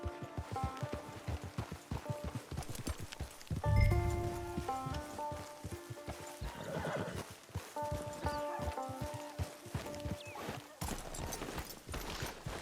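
A horse in the Red Dead Online video game whinnies loudly and trots with steady clip-clop hoofbeats, alongside in-game music and ambient sound, with no talk.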